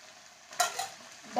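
Chaurai saag leaves are stirred in a cooking pan with a soft scrape and rustle, over a faint background sizzle, in one short, close-up moment.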